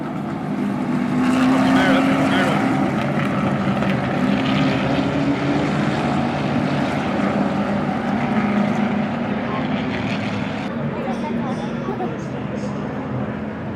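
A jet flyover at the Daytona 500 produces a loud, continuous engine roar that fills the whole stretch and eases slightly toward the end, with people talking over it.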